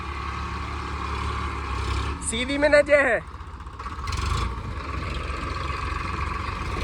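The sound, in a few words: Eicher 557 tractor engine straining in a pulling battle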